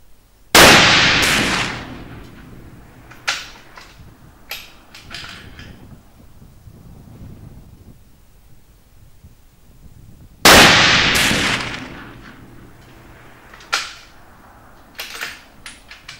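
A Fabarm Iris rifle chambered in .300 Winchester Magnum fires two loud, booming shots about ten seconds apart outdoors, each followed by echoing rumble and a few small clicks and knocks.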